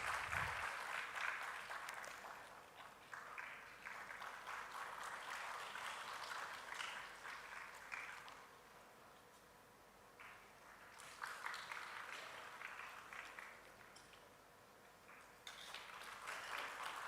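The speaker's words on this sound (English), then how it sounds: "A big round of applause" Audience applause at a university intellectual property workshop as a guest speaker is felicitated: fairly quiet, steady clapping from a hall crowd over about seventeen seconds, easing slightly midway and then building again.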